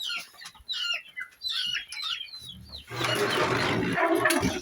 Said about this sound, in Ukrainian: О, зайшли тут курчатка.